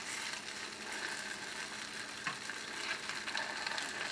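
Polish kielbasa and pierogies frying in a pan, a steady close sizzle with soft crackles and a few brief spatters, no talking.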